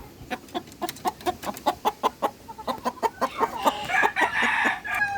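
Rhode Island chickens in a backyard poultry pen give a steady run of rhythmic clucks, and a rooster's drawn-out crow rises near the end, all close and fairly loud with no talking.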